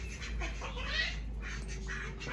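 Ducks quack near turkeys at a farm, a series of soft, nasal calls repeating over a steady low hum, moderately distant.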